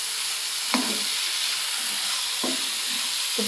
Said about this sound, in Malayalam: പീസ് മൊത്തത്തിൽ ഒന്ന് മിക്സ് ചെയ്തെടുക്കാം.